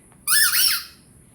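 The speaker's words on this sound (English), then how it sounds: "Look, it's going to squeak." A squeaky dog toy ball lets out one sharp, loud squawking squeak, close up and wavering in pitch, lasting about half a second before fading.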